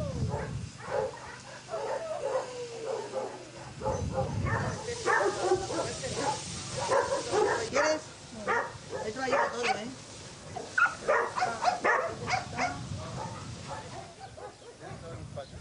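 Several dogs at a shelter yip, bark and whimper in a lively, uneven chorus that carries on throughout, mid-distance, with people talking in the background.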